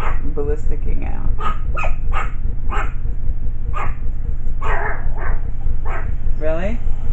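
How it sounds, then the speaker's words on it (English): Several dogs bark and yip excitedly at close range in rapid bursts, with whimpers mixed in, while people talk over them. "Now the dogs are gonna start ballisticking out."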